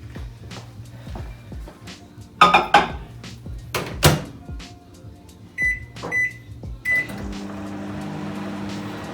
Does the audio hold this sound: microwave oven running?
yes